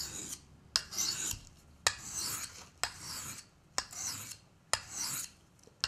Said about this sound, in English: this is much finer abrasion here, so it's making a much, much quieter noise